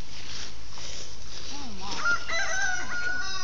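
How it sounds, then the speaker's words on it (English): A rooster crows in a short, rising-and-falling call with a few clucks around it. The fowl sounds moderately close against a quiet outdoor background. "I'm gonna re-catch this chicken."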